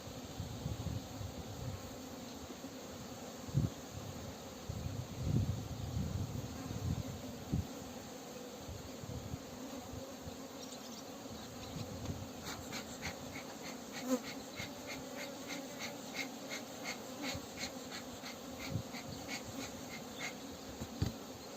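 A steady hum of many honeybees flying around a hive close by on a windy day, with faint rhythmic ticking and rustling in the latter half.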